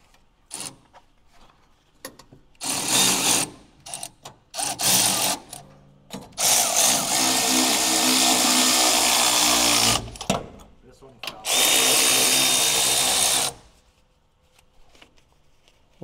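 A power tool tightens bolts while a 4-inch lift kit is installed on a Mitsubishi U62T, running in several loud bursts of a few seconds each with pauses between them. People talk in between.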